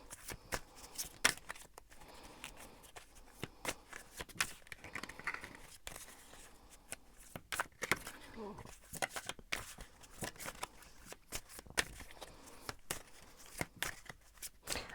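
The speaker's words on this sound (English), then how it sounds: "So I'm going to shuffle a bit more" Tarot cards are shuffled by hand in quick, uneven riffling bursts, close and fairly quiet, with soft papery flicks repeating throughout.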